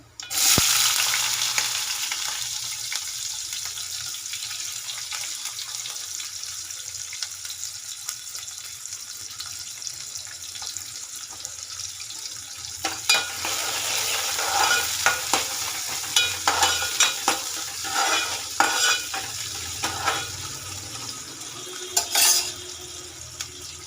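Mustard seeds, cumin seeds and onions fry in hot oil in a pan, a steady close sizzle with scraping and stirring sounds and occasional clinks that grow busier toward the end.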